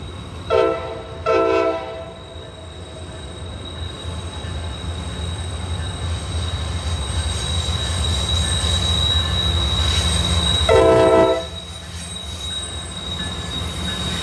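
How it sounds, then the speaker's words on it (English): A Norfolk Southern intermodal freight train rumbles past steadily at Horseshoe Curve, Altoona, Pennsylvania, with continuous wheel noise, its horn sounding in two short blasts at the start and once more later. "Here comes an NS intermodal."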